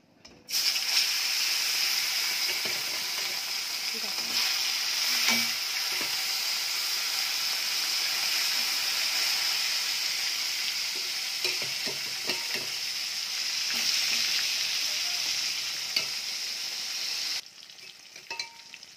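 Catla fish pieces, marinated with salt and turmeric, fry in oil with a loud, steady sizzle that starts abruptly and runs for about seventeen seconds, punctuated by occasional stirring clicks and spatters before cutting off.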